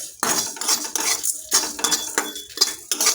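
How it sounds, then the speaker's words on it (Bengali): Dry red chillies and salt being lightly dry-roasted in a wok for a lemon chicken spice powder, with a spatula repeatedly scraping and clinking against the metal in short, close, bright bursts and no voices. "এখন এইগুলোকে হালকা করে ভেজে একটু গরম করে নিচ্ছি।"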